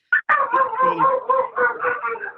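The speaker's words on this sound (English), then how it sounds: "If they sound like nice dogs, but please mute" Dogs barking over an open microphone on a public meeting call, a run of close, tonal barks and yelps in quick succession, slightly compressed as if transmitted through a phone or computer line.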